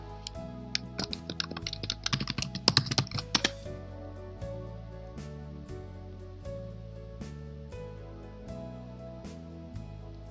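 Clicking keystrokes on a computer keyboard while a password is entered at a server login, starting in quick, uneven bursts and then thinning to sparse taps over steady background music.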